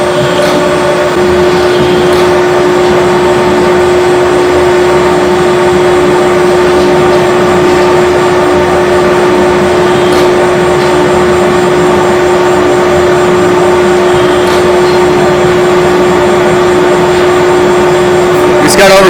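An RMT FC-FAB flanging and circle cutting machine running steadily in a fabrication shop, giving a loud continuous mechanical drone with a persistent tonal hum and occasional faint clicks.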